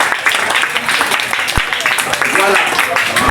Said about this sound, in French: On peut applaudir très fort pour Dieu. Acclamons très fort pour Dieu.